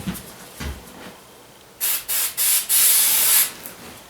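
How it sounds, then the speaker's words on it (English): Brake cleaner is sprayed onto a small blue generator in four or five quick hissing bursts, the last one longest, close and loud with no talking. "I'm going to give this just a little spray of some brake cleaner"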